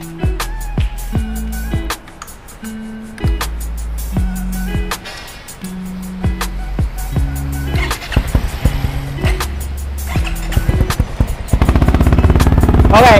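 A Yamaha XMAX 250 scooter fitted with a Termignoni aftermarket exhaust is revved in repeated blips that step up and down in pitch, loud and close, swelling into a harsher, sustained roar near the end.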